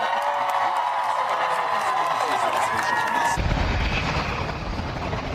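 A crowd of several hundred people gathered in Tenafly, New Jersey erupts in cheers and applause at news of a hostage's release, a loud, sustained roar of voices that shifts abruptly partway through.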